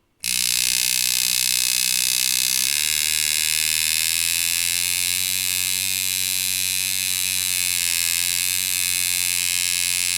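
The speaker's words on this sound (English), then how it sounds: "you can hear it changed a little bit in sound. That's just because the motor is working a little bit more ideal in that range" A Dan Kubin Sidewinder rotary tattoo machine motor runs at 5.5 volts with a loud, steady electric whine and hum. Its pitch shifts slightly a few seconds in, and then the tone holds constant with no talking.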